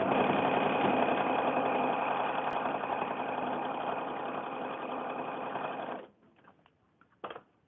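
A sewing machine stitches a mini quilt in one steady, close, continuous whir for about six seconds, then stops, leaving only faint clicks and a short final burst of stitching.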